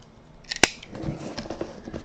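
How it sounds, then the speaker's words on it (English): A blade slices through the tape seal on a cardboard box: a sharp close snap, then a run of scraping, tearing cuts, with no voices. "seal on camera as I cut through them"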